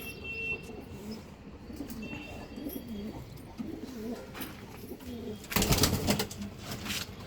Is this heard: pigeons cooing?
yes